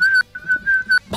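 A person whistles a short, clear tune of steady held notes broken by brief gaps, close and loud, with no talk over it.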